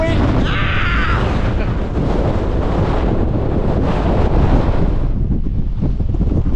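Gale-force wind roars across the fells of the Langdales in the Lake District, loud, constant buffeting against the microphone with heavy low rumble and gusty surges, nearly drowning out occasional speech.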